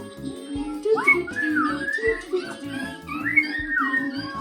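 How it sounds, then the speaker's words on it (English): A person whistles a few short rising and falling tones, close and clear, over a low steady background hum. "I hear a zookeeper whistling in my ear."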